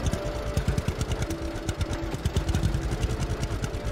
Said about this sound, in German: Mit unserem schönen Traktor.